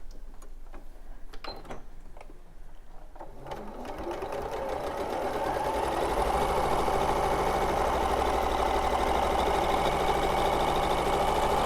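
A sewing machine stitches a quarter-inch seam on fabric, starting after a few faint taps and then speeding into a steady, fast mechanical whirr that stays close and continuous to the end.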